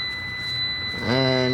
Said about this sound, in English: they've been beeping since 8 o'clock this morning